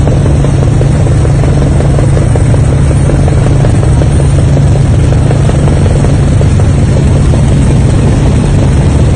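Helicopter heard loud and close, a steady droning rotor and engine roar that runs without a break and drowns out everything else.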